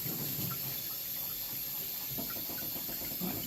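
Hands rinsed under a running tap, a steady close hiss of flowing water with faint splashing as the hands move through the stream, alone and without talk.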